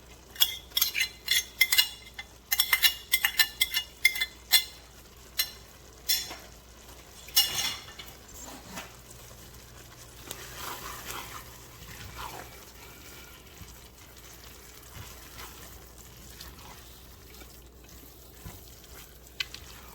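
Cooked onion, garlic and mushroom tipped into nearly finished risotto in a pan, starting with sharp clattering stirs and scrapes, then settling into a soft, steady sizzle with occasional stirring, with no voices.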